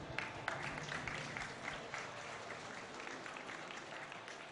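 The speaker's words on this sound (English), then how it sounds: "So once again, a big round of applause for Mr. Hassop." An audience applauds at a StarCraft 2 esports grand final event. Dense, sustained clapping from a crowd starts strong and slowly thins out, heard from a moderate distance.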